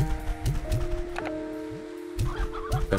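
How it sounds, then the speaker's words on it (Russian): Chickens cluck repeatedly in Slime Rancher 2, including a rocky chicken, with short rhythmic clucks over a steady game soundtrack and faint rustling, no talk. "Каменистая курица"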